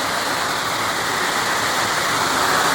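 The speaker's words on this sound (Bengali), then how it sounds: "দেখো ভাই কিরকম বৃষ্টি লেগে গেছে, ঝটপট করে বৃষ্টি লেগে গেছে" Heavy rain pours down in a steady, dense, unbroken hiss that stays loud and even throughout.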